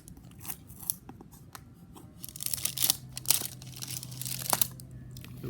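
Scissors cut through plastic packaging while unboxing a Mark Roberts fairy figure, giving a series of close, crisp snips and crinkles that grow denser and louder partway through.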